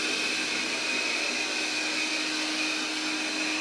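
An iHome NOVA lidar robot vacuum with a self-empty bin, rated up to 2700 Pa suction, runs with a steady, loud whirring drone and a constant high whine, heard alone throughout.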